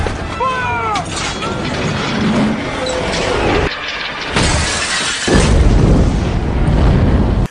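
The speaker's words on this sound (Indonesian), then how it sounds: "sebuah pelontar raksasa yang membuat ruangan Irwin hancur dan merusak semua koleksi barang" Film scene of a giant catapult smashing a room and wrecking a collection of belongings: loud crashing, shattering debris and heavy booming impacts layered over dramatic music, building to a louder burst near the end.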